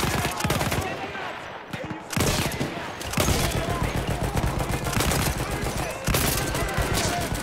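Gunfire in the Battlefield 1 video game: rapid, loud bursts of automatic shots in dense volleys, broken by a brief lull and then resuming, with a voice talking over the shooting.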